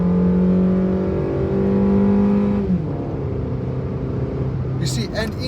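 A 2025 Suzuki Fronx engine with an automatic gearbox hums steadily from inside the cabin, its pitch shifting as it pulls forward, with a brief rattle near the end.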